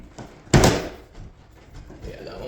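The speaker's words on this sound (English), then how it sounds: "Obviously, we know the door is catching." A door catching on its striker plate and failing to shut: one sharp, loud knock followed by fainter rattling and scraping, close by, with no talking.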